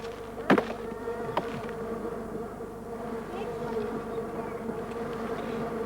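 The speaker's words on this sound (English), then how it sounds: "That's the bee there." Native stingless bees buzzing around a sugarbag nest in the Australian bush, a steady close insect drone throughout with one or two brief louder knocks near the start.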